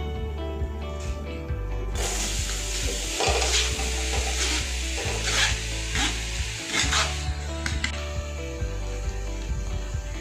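Chana dal stirred with a spoon in a heavy-bottomed kadhai over a gas flame, continuous scraping and rattling of dry lentils against metal, close and fairly loud, with rhythmic sweeps and sharper clinks.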